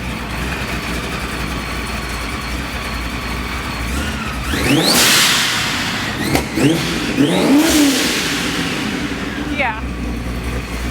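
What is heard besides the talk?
carbon fiber Mustang engine revving with ProCharger supercharger whine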